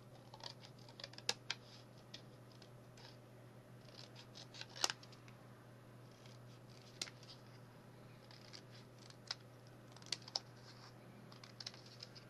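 Scissors cut into a paper envelope with faint, sparse snips and crisp rustles, quiet and close, with no talking over them.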